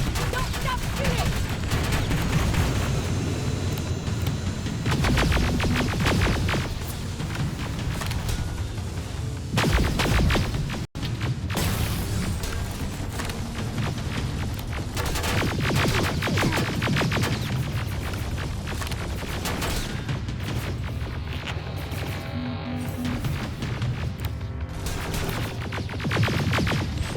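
Dense, sustained gunfire from Terminator Resistance, rapid automatic bursts and heavy booms layered continuously throughout, loud and close, with a brief sharp cut near the middle and shouted voices mixed into the battle din.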